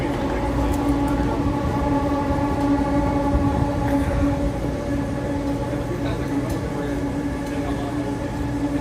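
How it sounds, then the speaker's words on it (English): A Vancouver SkyTrain at Waterfront Station gives off a loud, steady rumbling drone with sustained tonal whine throughout, while crowd murmur and voices carry underneath. "Stand out of the way and let these people get on their SkyTrain."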